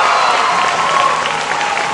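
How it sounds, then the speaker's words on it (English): A sellout crowd at a 200m backstroke swim meet gives a steady, loud ovation for Michael Phelps, with sustained clapping and crowd noise filling the arena throughout. "Sellout crowd, big ovation for the top Olympian of all time."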